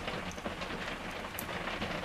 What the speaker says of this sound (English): It really is raining out there.